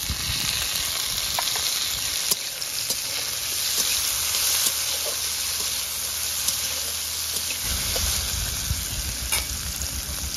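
Chopped tomatoes drop into potatoes already frying in oil for a fresh banana-flower curry, sending up a steady, close sizzle with bright hiss and occasional stirring clicks, with no voices.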